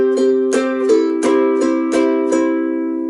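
Power chords on a ukulele in a twelve-bar blues pattern, roughly six firm, evenly spaced strums moving between chord shapes, close, loud and ringing with no voice.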